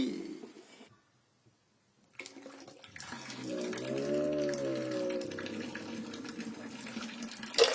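Water pours steadily into a pot for making Maggi instant noodles, a continuous filling rush rising in pitch over several seconds after a quiet start, fairly close and alone.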